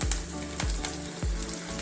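Mustard seeds sputter and crackle in heating oil for a Kerala-style bitter gourd curry, with a steady sizzle broken by a few sharp pops at a steady pace, close and moderately loud, with no talking.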